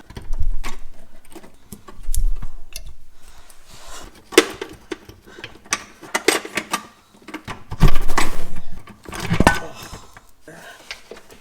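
Metallic clanks, clicks and ratcheting scrapes come from work on a bolt at the rear shock mount of a Jeep Cherokee XJ, arriving in irregular loud bursts with pauses between them.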